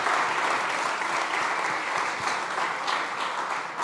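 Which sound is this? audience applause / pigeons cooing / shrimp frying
audience applause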